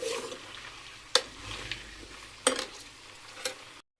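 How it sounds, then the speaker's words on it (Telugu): Peanuts frying in oil, a soft steady sizzle with a few sharp clinks and stirring knocks from the pan spaced a second or so apart, fairly quiet overall. "ఇప్పుడు వీటిని బాగా ఫ్రై అవ్వనివ్వాలి."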